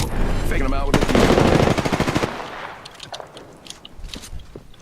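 Automatic gunfire in the shooter game Apex Legends rattles loudly in a rapid burst for a couple of seconds, then gives way to scattered fainter shots, clicks and footsteps.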